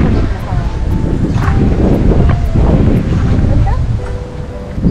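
Steady, loud wind buffets the microphone at an outdoor wedding venue in Antipolo, a continuous rushing roar with no breaks.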